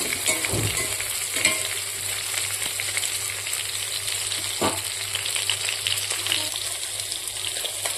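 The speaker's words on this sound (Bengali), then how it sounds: "আটটা মাছটা ভাজার জন্য বসিয়ে দিয়েছি" Fish fries in a pan, a continuous close sizzle and crackle that carries steadily throughout, with a few knocks and scrapes of stirring scattered over it and no voices.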